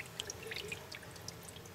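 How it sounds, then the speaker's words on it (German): Faint, steady trickle and splash of water in a small decorative fountain built into a tablet holder with decorative stones, soft drips and pouring running throughout without talk. "Und jetzt hören wir mal den Plätschern zu."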